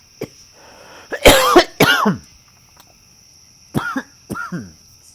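A few hacking coughs burst out close by in a quiet room, a pair first, then two more after a pause.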